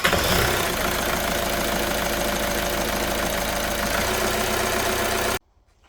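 A 2010 Volkswagen Golf Mk6 1.6 TDI diesel engine runs loudly and steadily with a knocking, rumbling idle, close up, then cuts off abruptly near the end.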